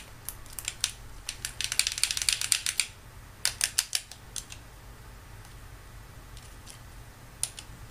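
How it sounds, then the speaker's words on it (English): Buttons on a game controller are pressed one after another: quick plastic clicks come in dense bursts for the first few seconds, then thin out to a few scattered presses over a quiet background. "I'm going to go ahead and click every button I can on this controller."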